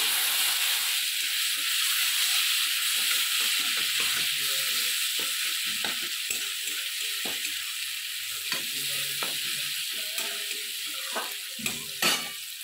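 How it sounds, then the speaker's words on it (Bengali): A spoonful of garlic paste frying in a pan for a prawn and onion-stalk dish, producing a constant hissing sizzle with scattered stirring taps and scrapes, no voices present. "এখানে আমি এবারে রসুন বাটা 1 চামচ ভালো করে ভেজে নিলাম"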